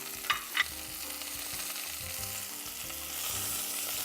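Sliced carrots and black pepper frying in a pan while being stirred: a soft, continuous sizzle with a couple of sharp utensil clicks early on, quiet and close, with no voices.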